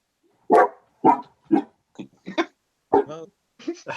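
A dog barks in loud, separate bursts, about eight of them at roughly half-second intervals, close to the listener with no other sound between them.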